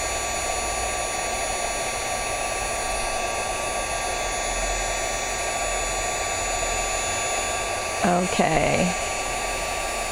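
A hair dryer blows hot air steadily to dry a paper craft, a constant close whir running throughout, with a brief spoken word near the end.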